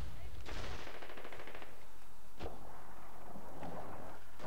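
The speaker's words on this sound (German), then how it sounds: "Artillerie!" Artillery fire in the Medal of Honor Warfighter multiplayer shooter: a rattling burst of rapid gunfire, then sharp booming impacts and scattered blasts with rumble, moderately loud, no talking.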